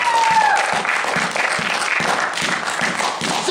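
Sunday church congregation clapping and acclaiming during worship, a loud continuous wash of applause with rhythmic accented beats and crowd noise mixed in.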